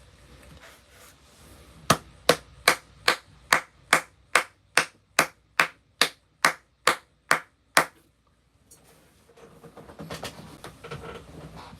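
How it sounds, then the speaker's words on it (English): Sixteen sharp, evenly spaced claps, loud and close, in a steady rhythm, then a pause and faint rumbling noise afterward. "There's a round of applause, Kendrick."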